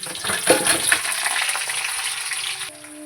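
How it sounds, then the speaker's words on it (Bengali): Mango pieces sizzle steadily in hot oil in a pan for a mango pickle, with scraping stir strokes and a crackling hiss that fades slightly toward the end, close and without talk. "এবার আমগুলোকে আমি এইভাবে নেড়ে ভেজে নেব"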